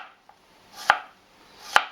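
Two sharp knife strikes on a cutting board while vegetables are sectioned for a Thai green curry, spaced almost a second apart, close and crisp with no talk.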